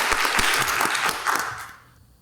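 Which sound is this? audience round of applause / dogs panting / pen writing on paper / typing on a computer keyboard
audience round of applause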